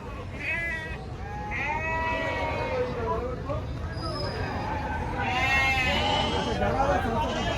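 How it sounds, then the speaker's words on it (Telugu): Goats at the crowded Jiyaguda market in Hyderabad bleat repeatedly, several wavering cries rising close by and overlapping, over a constant hum of people talking. "చూడండి మేకలు అయితే ఉన్నాయి మంచిగా"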